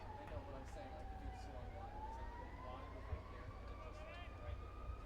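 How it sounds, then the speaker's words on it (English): A fire engine siren wails past beyond the right field fence of a baseball game, its pitch sliding and rising steadily, moderately distant and continuous over the ballpark's steady background hum. "A very loud and distracting fire engine makes its way beyond the right field fence"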